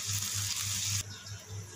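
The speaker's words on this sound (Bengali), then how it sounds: "মাংস কষা হয়ে গেছে, এবারে পানি দিয়ে দেবো।" Water pours into a pot of chicken curry being cooked, a steady close gushing splash for about a second that then cuts to a quieter, softer continuing sound, with no talking.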